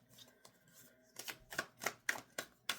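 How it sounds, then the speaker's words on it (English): Tarot cards are shuffled in irregular bursts of crisp riffling, quiet at first and then a faster run of six or seven louder, sharper flicks close by, with no talk. "I'm shuffling backwards again."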